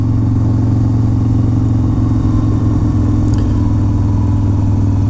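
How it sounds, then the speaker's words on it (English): A steady, loud engine rumble with a deep exhaust drone from a motorcycle with loud pipes runs throughout, idling or cruising close by on a Sturgis ride with a constant low throb. "That's why you like loud pipes."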